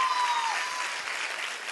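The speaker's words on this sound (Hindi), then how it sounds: "जोरदार ताली होनी चाहिए, जोरदार" A stage-event audience claps loudly, a thick continuous burst of applause that stays even throughout its short length, with no speech on top.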